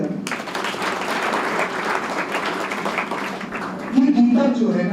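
An audience applauds at a spiritual talk at a career academy, a steady wash of clapping filling the room, with a voice cutting in over it near the end.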